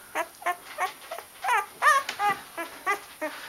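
Week-old white shepherd puppy in a litter gives a series of thin, high whimpers and squeaks, about a dozen short cries in an irregular rhythm, close but soft over faint background hiss.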